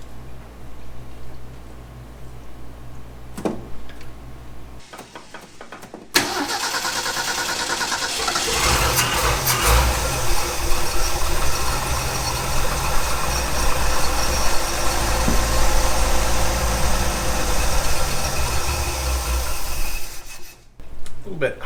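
A 1965 Ford F250 service truck engine, a farm auction find parked for years, cranks and catches after a quiet start, then idles fast and loud, rough and steady for about fifteen seconds before cutting off.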